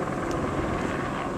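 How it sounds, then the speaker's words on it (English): A news helicopter hovers overhead, its rotor a steady, distant rumbling drone mixed with wind noise and no talk. "We got a news chopper hovering."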